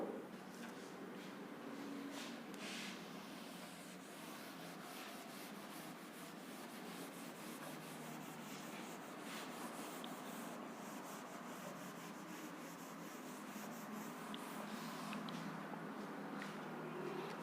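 Chalk or marker writing being rubbed off a classroom board during a maths lesson, a steady scrubbing hiss that runs continuously and fairly quietly without talk.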